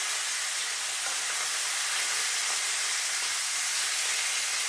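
Thin pork chops sizzle in a hot pan, producing a steady broadband hiss of frying that holds evenly loud throughout with no pauses.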